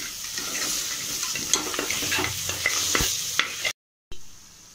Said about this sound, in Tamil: அந்த தண்ணி போகிறது வரைக்கும் வறுத்துக்கலாம்.